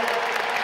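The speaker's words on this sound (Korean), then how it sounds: "큰 박수를 해주시기 바랍니다" Dense applause from a large crowd, continuous and fairly loud throughout the short moment.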